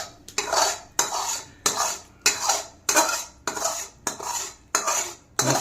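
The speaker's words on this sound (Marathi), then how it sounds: "तर याला रव्यामध्ये मिक्स करायचं" A metal spoon stirs hot sugar syrup into semolina in a pot for laddu, scraping and clinking in about ten regular strokes roughly every half second, close and clear with no talking.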